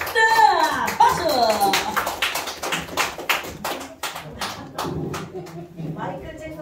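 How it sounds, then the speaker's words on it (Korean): An audience at a Korean forum claps to welcome a guest, starting as a burst of hands mixed with a voice and then thinning into separate, spaced claps with people talking alongside. "박수."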